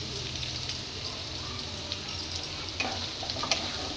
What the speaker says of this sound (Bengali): কাঁচা লঙ্কাটাও দিয়ে দেবো।